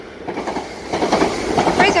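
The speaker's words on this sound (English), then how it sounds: "There's another train coming through." A Southern Class 387 electric train runs through a station with a rushing, rumbling roll and faint wheel clatter building toward the end, close by; a voice talks briefly over it.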